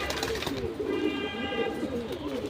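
Silver Beji pigeons coo in a low, continuous murmur, close by and unbroken for the whole short stretch.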